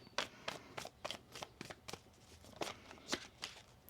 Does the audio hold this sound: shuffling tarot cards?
yes